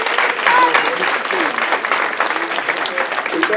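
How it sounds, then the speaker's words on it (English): A room full of people applauds for police officers at a ward community address, steady dense clapping throughout with voices and a few shouts mixed in. "Let's give a round of applause for our police."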